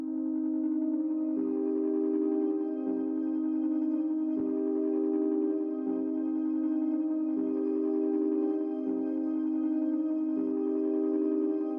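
Rendered synth key pattern processed with halftime, reverb and EQ for a dark beat: steady sustained tones shift in a slow repeating cycle of chord changes, smooth and ambient with soft textured upper layers.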